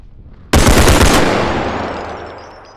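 A rapid, loud burst of video game assault rifle fire, like a SCAR, rattles off in quick succession in a bodycam-style shooter, then a long echoing tail fades away.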